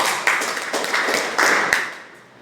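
A handful of claps at a talk or meeting, several sharp hand claps spaced irregularly over a couple of seconds, fading out at the end, with no voices over them.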